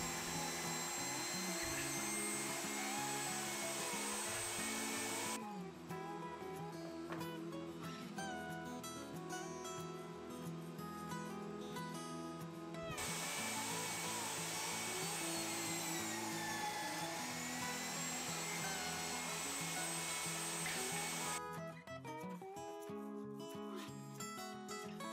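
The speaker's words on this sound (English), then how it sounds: "we're just gonna basically split the boards right down the middle" Power saw ripping wooden boards lengthwise down the middle, a loud, steady, close whine with continuous cutting noise that shifts in tone as the blade moves through each board, no talking.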